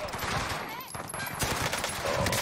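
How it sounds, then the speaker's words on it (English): Gunfire in Call of Duty Warzone, a dense stream of rapid automatic shots over busy battle noise, continuous for a couple of seconds and moderately loud. "Taking fire!"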